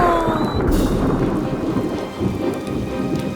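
Heavy rain pours steadily with a deep rumble of thunder rolling underneath, loud and close, with no voices.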